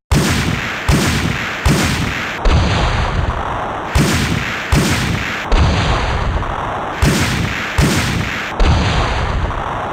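Mine thrower enhanced from Resident Evil 3 firing repeatedly, a steady rhythm of about ten loud sharp shots with booming blasts and a ringing tone after each group, alone with no talk.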